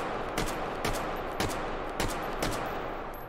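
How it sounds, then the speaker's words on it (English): Gunshots fired down range at a target in the VR game Hot Dogs, Horseshoes & Hand Grenades: five loud, sharp reports at a fairly even pace, roughly half a second apart, with no talking. "Okay, that's a few shots."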